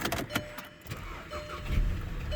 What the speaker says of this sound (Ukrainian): Заводиться він гарно, з півоборота, без всяких нарікань без всяких нюансів